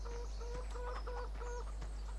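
Chickens cluck in a row of short, repeated calls on a farm in Farming Simulator 17, fairly close and steady over a low constant background hum, with no talk.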